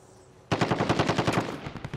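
Rapid automatic gunfire in Call of Duty: Warzone, a sudden burst of fast, evenly spaced shots starting abruptly and continuing for about a second and a half, loud and close with no talking over it.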